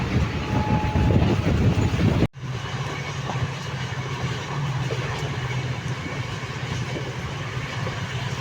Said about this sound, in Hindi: शानदार कर्व कर रही है हमारी ट्रेन।